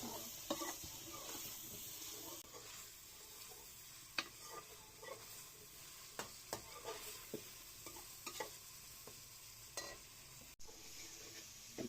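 Tomatoes fry and sizzle in a pan for a palak gosht dish while a spoon stirs them, a soft steady sizzle broken by repeated scraping clicks of the utensil against the pan, close and fairly quiet, no talking.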